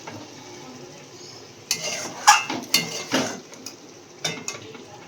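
Spiced meat and oily masala scraped and poured into a pressure cooker in a home kitchen, giving a few clattering metal clanks and scrapes of utensil against pot, close and moderately loud, with quiet pauses between.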